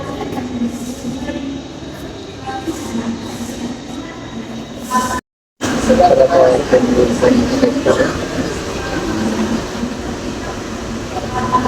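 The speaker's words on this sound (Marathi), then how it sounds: "प्लॅटफॉर्म नंबर दोनवर येत आहे बघूया आता ट्रेनमध्ये गर्दी तर आहे" A crowded commuter train pulls into platform two, a steady rumble of wheels and carriages that swells louder after a brief cut, with people talking nearby.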